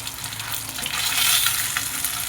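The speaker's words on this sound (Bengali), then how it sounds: "দেখো এরকম অবস্থায় আমি ভেজে তুলে রাখি।" Fish pieces fry in hot oil with a bright, continuous hiss and crackle that swells slightly midway, close and steady with no talking.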